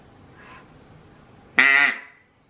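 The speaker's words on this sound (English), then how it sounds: "Oh, I think it's like a duck call." A vintage toy duck call lets out one loud, nasal quack close by, after a fainter short squeak, with quiet room noise around it.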